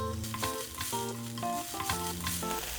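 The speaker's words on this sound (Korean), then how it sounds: "미역줄기를 넣어 볶아줘요" Seaweed stems stir-fry in olive oil in a frying pan over medium heat, giving a soft continuous sizzle under prominent background music, with no talking.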